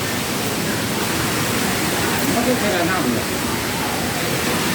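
A waterfall inside a cool, climate-controlled exhibition hall of cold-climate plants gives a loud, steady rushing hiss of falling water, with a voice faintly audible beneath it.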